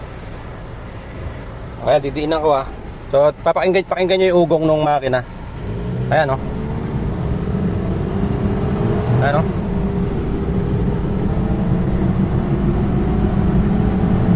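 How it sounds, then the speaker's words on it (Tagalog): A Mitsubishi Adventure's engine, with its MAP sensor removed, hums and rises in pitch as it revs, steady and close, with someone speaking over the first few seconds. "So pakinggan nyo yung ugong ng makina."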